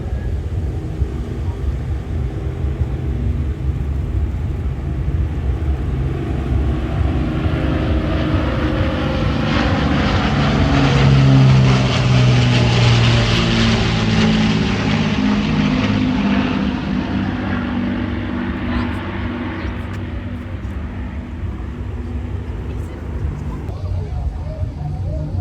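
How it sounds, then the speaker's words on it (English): An Avro Lancaster bomber, the Battle of Britain Memorial Flight's City of Lincoln, makes its final pass at an air show in Ayr. Its piston engines give a loud, steady, throbbing propeller drone that swells, peaks close by, then eases away. "final pass, the Battle of Britain Memorial Flight, Lancaster Bomber, the City of Lincoln."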